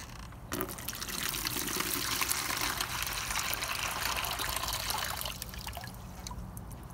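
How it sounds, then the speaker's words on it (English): Acid cleaning solution pours from a Hayward AquaRite Turbo Cell pool salt cell into a bucket, a steady splashing trickle of liquid that runs continuously for several seconds before tapering off, close and fairly quiet. "this is the point where we're going to pour what's in this unit into the bucket"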